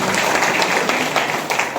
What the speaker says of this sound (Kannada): ಅದಕ್ಕೆ ಆ ಪೂಜೆರಿಗೆ ಜೋರಾದ ಚಪ್ಪಾಳೆ ತಟ್ಟೋಣ.